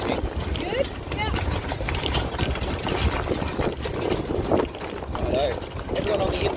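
Horses pulling a wagon on an outback tour around Longreach, their hooves clip-clopping steadily and close under continuous chatter from the passengers, with wheel and harness rattle in the background.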